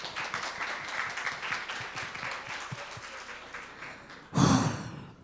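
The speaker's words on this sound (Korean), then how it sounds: "큰 박수 부탁드립니다" A school audience at a Korean high-school team presentation gives steady, moderate applause, which is cut off by a sudden loud burst of noise near the end.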